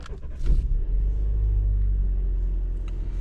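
Alfa Romeo Giulia engine starting up, a short crank followed by a low, steady idle rumble, close by.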